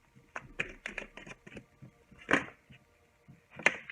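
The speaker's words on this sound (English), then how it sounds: "I'm just going to give it a few light shuffles" Tarot cards are given a few light shuffles, making soft papery riffling bursts, a brief flurry of taps at the start, then two louder isolated slaps near the end, heard up close in a quiet room.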